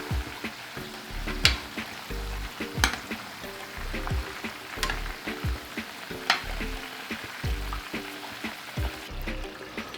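Carnitas pork simmers low and slow in lard, a gentle, continuous bubbling fry with occasional louder pops and stirs, heard under soft background music.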